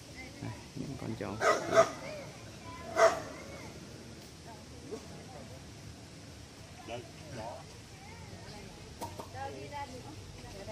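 Phu Quoc dogs on Phu Quoc island bark and yip in a few short bursts near a stream outdoors, moderately close, then quieter yelps over steady outdoor background noise with faint voices.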